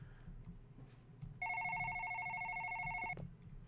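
A telephone in a horror video game gives a single electronic ring lasting under two seconds, clear and steady over a quiet, dark ambient background.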